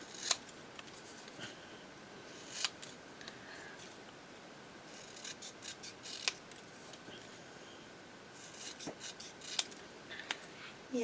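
Scissors snip through paper ephemera for a junk journal, giving quiet, sharp, intermittent clicks and cuts spread across a soft, low background.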